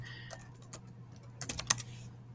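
Soft, close keyboard typing in a few quick bursts of clicks over a low steady hum.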